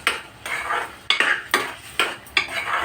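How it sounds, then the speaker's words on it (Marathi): Three eggs are beaten with a spoon in a bowl, giving quick rhythmic clinking and swishing strokes, close and clear, about six beats in under three seconds. "तीन अंडी टाकलेली आहे आता ही चमच्याने एकजीव करणार आहोत आपण"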